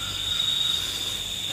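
Crickets chirp at night in a steady, high, continuous trill that holds at an even loudness with no pauses.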